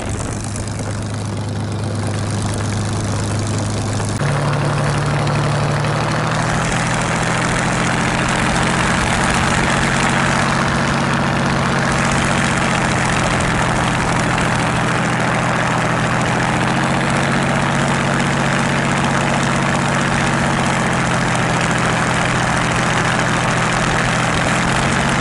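A Spitfire's piston engine idles on the ground during its warm-up, a loud, steady, throbbing drone that holds an even pitch throughout with no voices over it.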